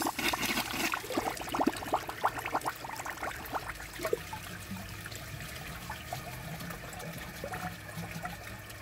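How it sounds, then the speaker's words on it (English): A Kohler Elliston toilet with a clogged siphon jet flushing with a press and release, a loud rushing swirl of water that gradually settles into a steady, fainter trickle as the bowl drains. "The siphon jet is clogged, so let's see how it flushes with a press and release flush."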